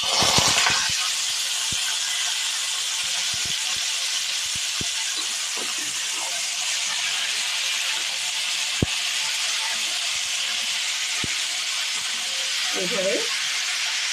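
Washed, drained cut potatoes fry in oil tempered with dried red chilli, giving a steady broad sizzling hiss with scattered pops and the odd scrape of stirring.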